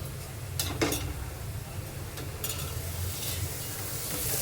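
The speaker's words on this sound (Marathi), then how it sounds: "त्यानंतर वरतून टाकायचं आपल्याला टमॅटो." Chopped tomato goes into a frying pan of onions for dried bombil rice, giving a faint steady sizzle with a few light scrapes and clinks of a spoon against the pan.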